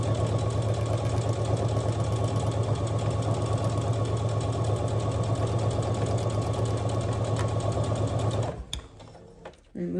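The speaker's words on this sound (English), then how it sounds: "I'm gonna go ahead and start my machine and I'm just doing a straight stitch" A sewing machine runs a straight stitch on a drawstring backpack, its motor humming with a fast, even needle chatter for about eight and a half seconds before stopping, followed by brief quiet handling noise.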